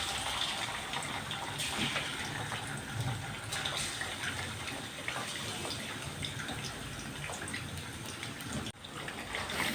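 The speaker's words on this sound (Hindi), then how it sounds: "इसमें अब हम ये चिकन डालेंगे।" Chicken pieces hit hot oil in a karahi, setting off a loud, steady sizzle and hiss that carries on nearly unbroken from start to finish.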